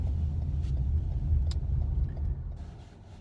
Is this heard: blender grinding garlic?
no